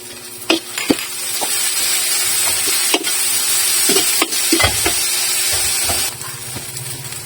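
Bagoong sizzles as it fries in a pan with already-cooked garlic and onion, a steady close hiss broken by a few clinks and scrapes of stirring.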